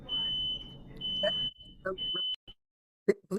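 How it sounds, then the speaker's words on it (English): A high electronic alarm beeps in a steady repeating tone in a nursing home, with people talking faintly underneath and a few louder bumps near the end. "There's an alarm going off."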